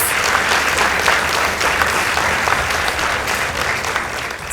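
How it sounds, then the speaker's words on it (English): An audience at a school debate between St. Joseph Boys High School Kitale and Samoei Boys High School breaks into loud, dense applause that fills the room steadily for several seconds, with no speech on top. "Let's give them a round of applause."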